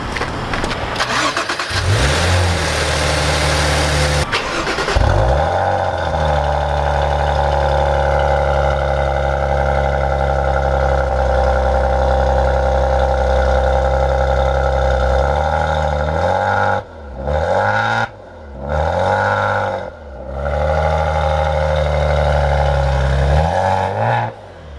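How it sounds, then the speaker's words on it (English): A 2017 Maserati Ghibli V6 engine cranks and fires, revs briefly, then settles into a steady, loud idle close by, with a few short blips of the throttle near the end. "Now let's fire up the engine."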